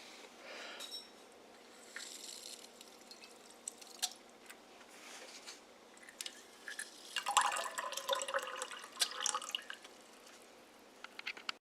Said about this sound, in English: you're going to utilize your plunger to apply pressure and back flush your filter